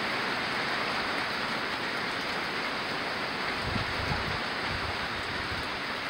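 Heavy rain pours off a porch during a severe storm, a dense, steady, close rushing roar of water that continues unbroken without any voices.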